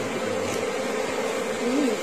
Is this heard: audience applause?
no